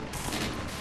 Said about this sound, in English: they're now going to start shooting at each other